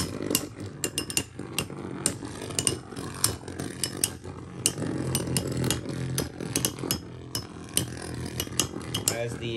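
A Metal Fight Beyblade Genbull 90 with an EWD bottom spins noisily and slightly off balance, giving a continuous rattling grind peppered with many sharp metallic clicks throughout.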